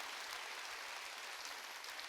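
A church congregation claps together during a Sunday worship service, a steady wash of applause that is faint and somewhat distant, with no voices standing out.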